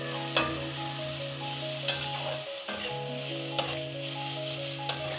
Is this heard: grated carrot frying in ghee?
yes